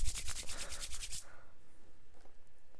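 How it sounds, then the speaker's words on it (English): Hands rubbing briskly together in quick, rhythmic strokes for about a second, close and fairly loud, then stopping, leaving only faint room noise. "I'm rubbing my hands together in excitement."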